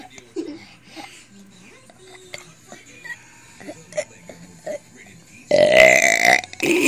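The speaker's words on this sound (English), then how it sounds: "Burp." A baby burps in short soft bursts amid quiet household sounds, then a loud, sustained burst of noise closes the scene.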